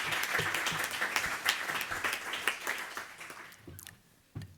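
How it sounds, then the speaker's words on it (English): Applause from a seated audience at an artists' books seminar, dense clapping that rolls on for several seconds before thinning out and stopping, with a last few scattered claps. "Applause."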